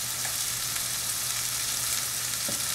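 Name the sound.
stirring Jamaican ackee and saltfish seasonings in a frying pan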